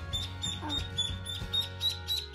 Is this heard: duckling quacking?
yes